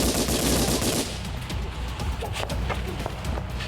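Rapid bursts of automatic gunfire from a heavy-duty weapon fired by a woman from a van across a street, loud and sustained at first, then trailing into scattered cracks with faint voices underneath.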